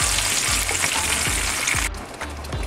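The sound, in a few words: tomato purée simmering in a pan with sausages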